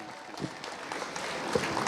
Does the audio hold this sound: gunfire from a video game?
no